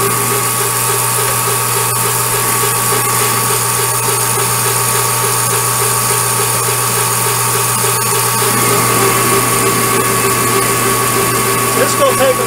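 A metal lathe roughing down steel stock for a shop-made slitting saw arbor, a steady loud motor hum and grinding cut that shifts in tone near the end, with talking over it.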